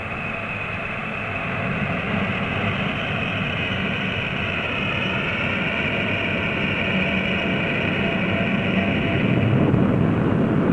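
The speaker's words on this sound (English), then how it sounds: "With the ground support equipment disconnected, the XB-70's wheels begin to roll." North American XB-70A Valkyrie bomber beginning to taxi on the ground, a steady loud roar of engines that swells slightly toward the end, continuous and alone with no talk.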